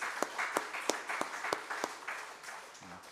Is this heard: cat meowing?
no